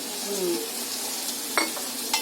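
Peanuts fry in hot oil with a continuous close sizzle, broken by a couple of sharp clinks from a spoon stirring them in the pan.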